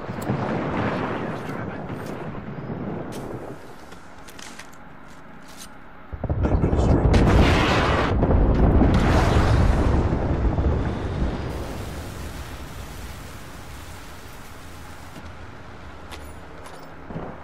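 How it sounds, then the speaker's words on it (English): Airstrike explosions in a video game arrive as heavy rumbling blasts: a sudden loud booming surge that rolls on for several seconds and then fades into a lingering low roar, with a voice talking at points. "There's an airstrike."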